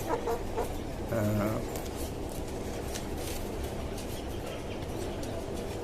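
Tiger breed chickens on a rooftop farm give soft clucks and short calls near the start, then a quiet mix of faint bird sounds and low background noise continues.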